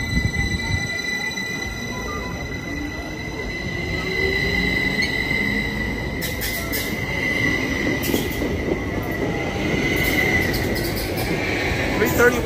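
A Caltrain train pulls out of Santa Clara station, a sustained rolling rumble with high metallic wheel squeal and faint clicking rising slightly as it departs, close and loud throughout.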